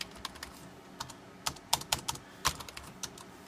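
A burst of computer keyboard key presses on a Dell Inspiron 530 entering the BIOS, irregular taps and clicks at close range in a quiet room.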